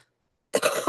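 After a brief silence, a single close cough erupts, harsh and breathy, with a short rough follow-through.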